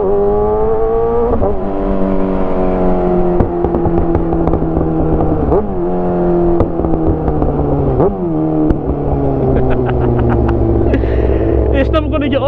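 A Kawasaki ZX6R motorcycle fitted with an SC Project CRT exhaust revs hard and loud, its engine note rising and falling through repeated sweeps with sharp pops and crackles, close and dominant throughout.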